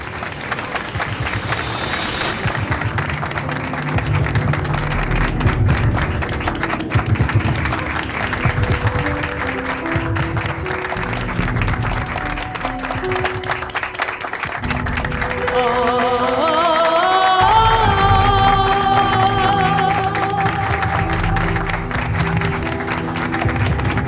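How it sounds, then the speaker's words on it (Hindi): A crowd applauds a newly married couple with sustained clapping that runs the whole length, while a musical tone rises in the latter half. "नए शादीशुदा जोड़े के लिए पुरजोर तालियां।"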